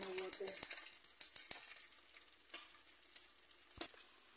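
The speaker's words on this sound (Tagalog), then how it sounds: "kumukulo na siya" Green mung beans simmer in a pot of about a liter of water, giving quick bursts of small popping bubbles that thin into softer, scattered bubbling.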